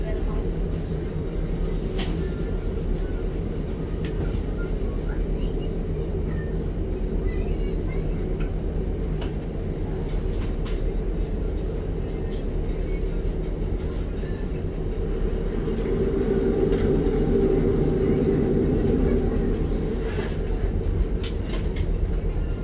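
A Transport for Wales class 150 diesel train runs between Cardiff Central and Crewe, with a constant loud onboard rumble and engine drone throughout and faint rhythmic rail clicks beneath.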